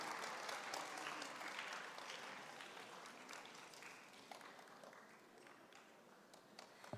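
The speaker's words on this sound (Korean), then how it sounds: "네, 박수로 축하해 주시기 바랍니다." An audience applauds at a university chapel award ceremony, steady clapping that starts full and slowly thins and fades over several seconds, with no talk over it.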